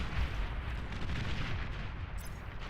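Heavy cannon fire booms in a real-time strategy battle in Beyond All Reason, a dense continuous rumble of overlapping blasts with no clear gaps, loud and close.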